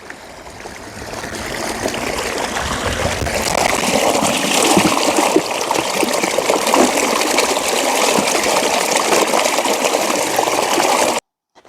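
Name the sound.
water of a stream murmuring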